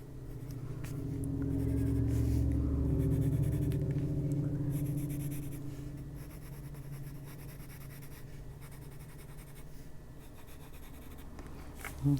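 Colored pencil scratching across paper during adult coloring, a steady rubbing scrawl that swells over the first few seconds and then continues more softly, close and alone with a low background rumble.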